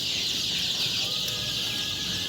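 Tiger and super hybrid chicken chicks at a hatchery, a dense chorus of high peeping chirps running steadily throughout at close range, with no voices over them.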